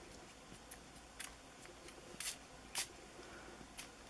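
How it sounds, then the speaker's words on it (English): Spray bottle spritzing London blue ink onto an art journal page, about five or six short, quiet hissing puffs at irregular intervals with soft handling noises between. "I'm going to take the London blue and spritz it."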